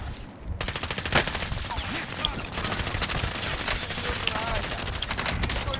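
Rapid gunfire in the video game Call of Duty: Modern Warfare, dense bursts of automatic shots crackling continuously throughout, with faint voices underneath.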